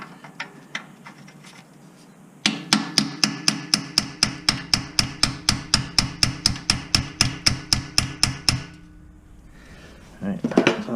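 A socket is hammered onto an exhaust bolt on a Nissan Murano, about two dozen sharp metallic strikes in a fast, steady rhythm, close and loud, followed by a few moments of quieter clanking.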